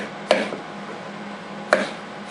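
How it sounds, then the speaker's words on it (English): Two quick chopping cuts from a Benchmade 8600 Bedlam automatic knife slicing through 550 paracord, each a sharp isolated snap about a second and a half apart, close and clear over a quiet background. "As well as some 550 paracord with some quick chopping cuts."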